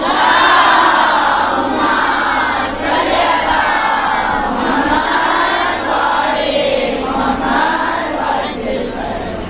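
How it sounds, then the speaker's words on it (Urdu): Large crowd at a Shia majlis gathering loudly reciting salawat in unison, a dense, sustained chorus of many voices filling the room at close range throughout. "اس بچی کی صحت و سلامتی کے لیے بلند صلوات."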